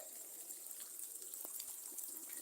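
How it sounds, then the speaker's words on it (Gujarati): Steady, soft rain hisses continuously, faint and even, with no voices. "સરસ મજાનો વરસાદ છે"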